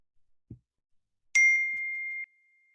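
A phone gives a single bright ding when a text message arrives, and the clean tone rings out for about a second before cutting off. It follows a couple of faint low knocks in otherwise quiet surroundings, with no voices.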